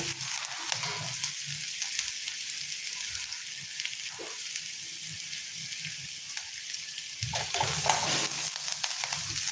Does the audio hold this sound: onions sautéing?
yes